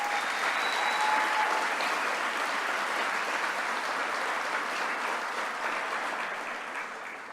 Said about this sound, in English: Can we give Nicole Daly a big round of applause?